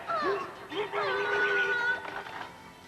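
A dog whimpers in a few high, wavering whines, close by, with a brief pause between bursts and some background noise.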